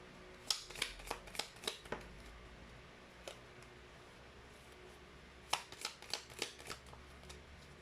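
Tea leaf fortune cards being handled and shuffled, heard as two quick bursts of crisp close riffling snaps separated by a short pause, with no talking.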